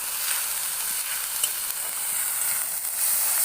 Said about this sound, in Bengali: পেঁয়াজটাকে আমি ভালোভাবে লাল লাল করে ভেজে নেব।